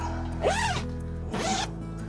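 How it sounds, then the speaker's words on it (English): A zipper on a quilt sleeve for caravan bedding gives two quick, close zipping pulls separated by a short pause, crisp and alone. "And just keep zipping up."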